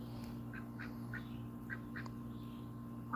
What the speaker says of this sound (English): I love to listen to the ducks.